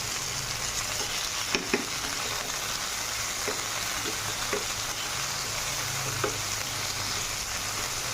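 Potatoes frying with browned onions in a pan for a potato and raw plantain dish, a continuous close sizzle with a few soft taps and spatula knocks scattered through; no voices.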